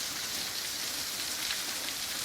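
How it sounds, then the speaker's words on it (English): Natural waterfall about 35 feet high in a gully after recent rain: a steady, faint hiss of falling water, even and continuous with no other sounds. "And there's the waterfall naturally."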